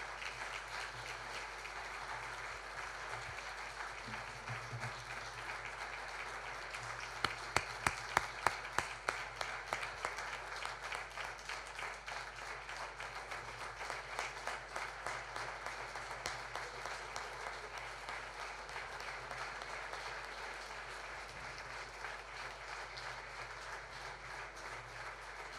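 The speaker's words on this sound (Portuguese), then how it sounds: "Um grande aplauso para Álvaro Siza." Prolonged applause from a seated audience at a ceremony honouring architect Álvaro Siza, fairly distant and steady, with a louder stretch of rhythmic, near-unison clapping partway through before settling back into a sustained patter.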